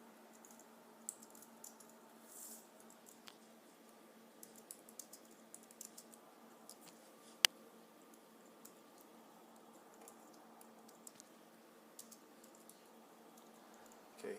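Sparse keystrokes tap on a computer keyboard while a disk-image command is entered for a wireless security camera setup, soft isolated clicks with one sharper key press, faint over a steady low hum.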